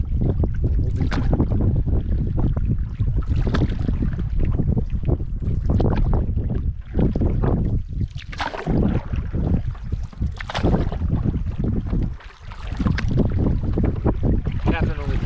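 Canoe paddling out on Yellowstone Lake, with irregular splashes and strokes of the paddles in the water under steady wind buffeting the microphone, fairly loud and close throughout.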